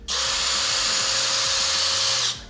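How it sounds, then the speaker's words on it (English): A power drill whirs at steady high speed for about two seconds, close and loud, then spins down and stops. "You just drill the front of it out"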